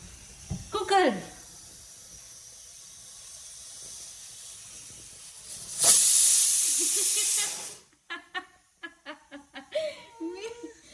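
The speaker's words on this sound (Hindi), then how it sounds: "ये कुकर की सीटी की आवाज सुन के।" A loud hissing whistle of escaping steam rises for a couple of seconds, with a voice and giggles before and after.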